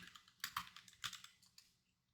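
Quick keystrokes on a computer keyboard typing a short search term, a close burst of about a dozen light clicks fading out, no voice.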